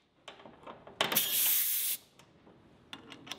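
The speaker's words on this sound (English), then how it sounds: "The powder coating gun uses an electrical charge to attract the powder to the metal." A powder coating gun fed by compressed air through a pressure regulator sprays powder onto grounded metal in one steady, loud hiss lasting about a second, framed by small clicks and handling noises.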